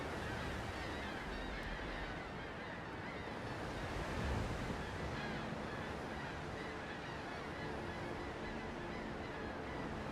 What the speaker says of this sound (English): Oh wow, look at those waves.